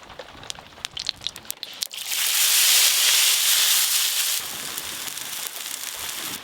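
Chow mein frying in hot white oil on a tawa: after a few crackly clicks, a loud, steady hiss bursts in and holds, then eases to a softer sizzle, with no voices.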